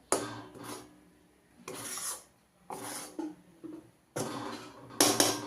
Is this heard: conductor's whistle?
no